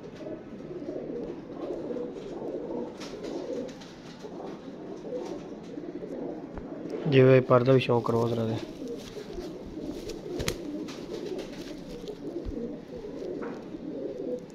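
Pigeons coo in a pen where someone talks steadily, a clear burst of layered cooing rising near the middle and standing out above his voice.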